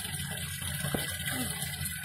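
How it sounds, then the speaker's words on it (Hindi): Water running and gurgling into a pot at a mountain spring in Uttarakhand, a steady close trickle and splash with a low murmur of flow underneath. "पानी भर रहा है अब पनघट से गगरिया भर के."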